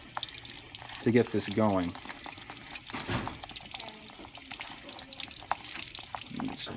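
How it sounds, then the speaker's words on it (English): Small amounts of water trickling and splashing into dental stone mix in a bowl while stirring for a model pour, faint liquid sounds beneath someone talking. "I'll mix it in a little bit of water at a time"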